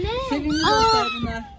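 Stray kittens being fed fish in a garden, with a high, wavering meow rising and falling over about a second and a half, close by and mixed with a voice speaking.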